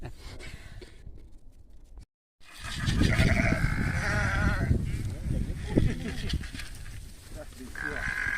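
Sheep bleating on a French sheep farm, several loud, wavering calls from a nearby flock over a dense barn background, with a person speaking at points.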